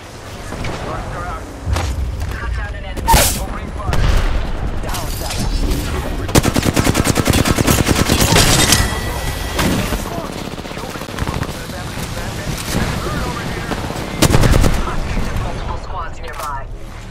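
Weapon fire in the battle royale game Apex Legends: repeated bursts of automatic gunfire and sharp shots with booming impacts, loud and close, with voices over it.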